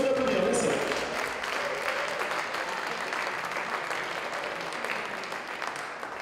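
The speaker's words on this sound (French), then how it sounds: "Vous pouvez vous applaudir" Spectators at a French Elite championship final applaud themselves, a steady wash of clapping from a crowd, fairly distant and even, slowly tapering over several seconds.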